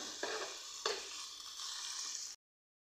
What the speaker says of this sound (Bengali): এখন সবগুলো উপকরণ খুব ভালো করে মিশিয়ে রান্না করে নিব